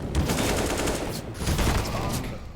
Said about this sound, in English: We'll hear the gunshots, the Molotov will go out